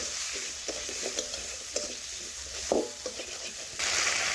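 Potato pieces sautéed with spices in a pan give a low sizzle broken by repeated scraping and stirring knocks of a spoon against the pan, ending in a louder burst of frying hiss.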